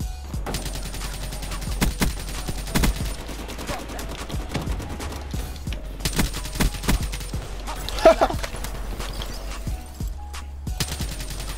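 KN-44 assault rifle gunfire in Call of Duty Black Ops 3, with sharp rapid bursts and single shots scattered throughout a multiplayer match, loud and close against a quieter game background.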